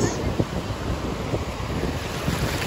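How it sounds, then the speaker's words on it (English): Ocean waves surging at a beach, a continuous loud roar of surf with heavy wind noise buffeting the microphone throughout. "Like, look at these waves."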